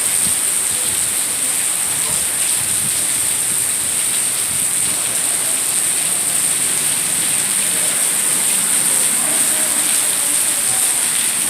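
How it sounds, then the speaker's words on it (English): Heavy rain from Hurricane Isaias pours down in a steady, loud, unbroken hiss that stays close and constant throughout, with no voices over it. "Raining like crazy."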